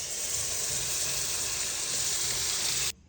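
Pumpkin and vegetables sizzling in a tempering of hot oil in a pan for kadhi, a steady loud hiss that runs evenly and then cuts off abruptly at the end, with no talk.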